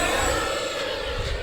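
A Hobby King 64mm Viper 6S electric ducted fan model jet whines steadily at high speed, a loud close-up whirring tone with layered harmonics and a slight rising shimmer.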